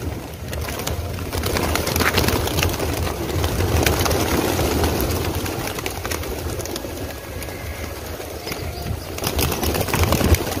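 Pigeons coo continuously nearby on Carter Road, Mumbai, amid a loud, steady outdoor rumble like an idling engine, with occasional wing flaps.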